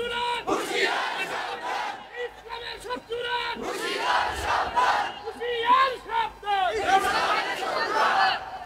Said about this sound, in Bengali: জোরে জোরে তাকবীর দেন।